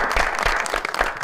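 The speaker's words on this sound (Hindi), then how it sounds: "जिन जिन के नाम लिए उन सब के लिए हमारी तरफ से बहुत सारी तालियां।" Applause during a studio interview, a steady, close spatter of hand clapping from a small group, filling the whole brief moment without any talk.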